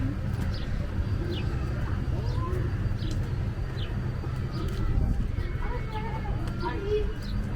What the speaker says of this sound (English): Oh, I hear the owl in here.